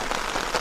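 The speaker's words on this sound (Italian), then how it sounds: "sta iniziando a piovere in modo importante adesso" Heavy rain drums steadily and loudly on a Quechua MH100 two-person tent, a dense close patter with no voices.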